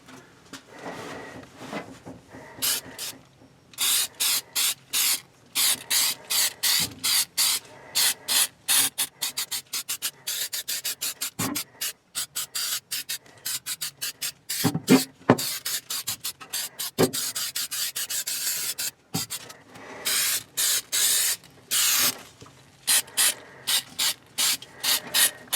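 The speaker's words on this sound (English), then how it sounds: "spray it with this rust reformer." Rust reformer sprayed from an aerosol can onto a 1968 Mustang in bursts of loud, close hissing, with brief pauses and some clunks between sprays.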